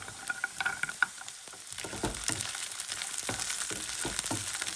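Onion, ginger and garlic sizzle and crackle in a hot pan, with bursts of spatula stirring and scraping over a steady frying hiss, close and alone.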